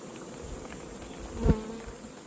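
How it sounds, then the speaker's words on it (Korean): Honeybees in a wildflower-honey apiary in the highlands of Jinan, Jeollabuk-do, hum steadily around their hives, a constant buzzing drone with a brief louder thump near the middle and no talk. "벌통에는 벌이 많죠"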